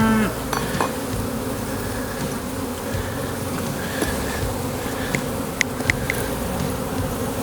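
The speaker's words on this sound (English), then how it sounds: "There's quite a few bees in here." Honeybees fill an open hive during a rescue, giving off a dense, continuous buzzing that stays close and steady throughout. A few faint knocks break through now and then.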